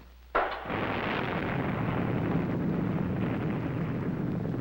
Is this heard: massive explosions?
yes